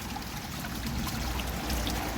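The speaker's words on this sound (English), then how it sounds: "it's sucking water in" Billing pond filter pump drawing water in through its casing, a steady continuous gurgling trickle with low rumble, close and unbroken throughout.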